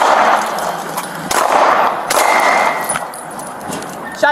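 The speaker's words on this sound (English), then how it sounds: "Shots fired." A police officer fires several sharp, loud gunshots at an armed suspect, spread irregularly across the scene outdoors, with shouting voices around them.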